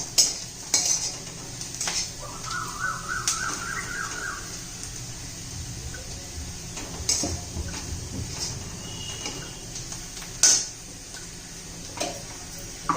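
A spoon scrapes and clinks against a pan while onion and homemade masala with coriander powder are stirred and sautéed, with a soft sizzle underneath and sharper metal knocks scattered throughout, close and alone.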